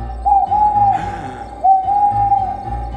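An owl hoots twice, each a long, smooth, wavering tone, clear and fairly close against a quiet background.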